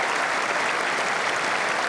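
A cricket crowd in the stands at Edgbaston bursts into loud, sustained applause for a diving fielding save by Justin Langer during the 2005 Ashes, a steady dense roar of clapping with no break.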